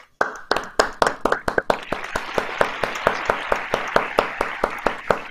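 An audience applauding warmly, many hands clapping in a fast, uneven rhythm, starting with a few sharp claps and swelling into sustained, fairly loud applause.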